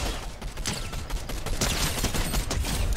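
Rapid bursts of gunfire in the Fortnite battle-royale video game, dense overlapping shots filling the short stretch, loud and close without speech.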